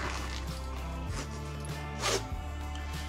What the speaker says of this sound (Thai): อ๋อผมรู้แล้วว่าไอ้เจ้าตัวซิปอ่ะมันเหมือนกับอะไร